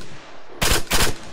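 AK-105 rifle fire in a military video game, two or three loud, close bursts of rapid shots after a quiet outdoor moment, each burst spreading as a broad blast.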